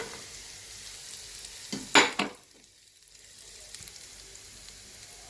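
Cabbage and capsicum hitting a hot pan for egg fried rice: a loud burst of sizzling with a couple of stir scrapes, then fading into a soft, steady fry.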